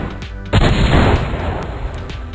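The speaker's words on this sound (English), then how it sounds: "I have just shot a cat out of a cannon." A cannon fires in the 2005 video game Kitten Cannon, launching a kitten: one sudden broadband boom that decays into a rumbling tail, alone without talk.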